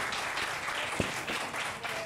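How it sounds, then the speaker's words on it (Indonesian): Audience applause for Bung MH at an artists' discussion on literature and visual art, a steady wash of clapping held at moderate, somewhat distant level throughout. "tepuk tangan loh buat Bung MH"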